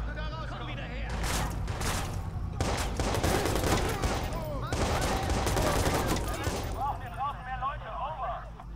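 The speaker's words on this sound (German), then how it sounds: "Woher schießen die?" Rapid bursts of gunfire from the video game Watch Dogs fill the whole stretch, loud and dense like a fusillade, with a voice talking over the shooting.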